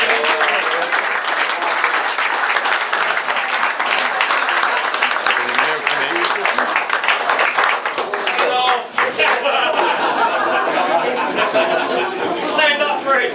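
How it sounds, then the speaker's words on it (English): Audience at a Grays Athletic Hall of Fame induction ceremony gives sustained, dense applause filling the hall, with crowd chatter and some laughter mixed in throughout. "could you please give a round of applause for Mr. Fred Wakening?"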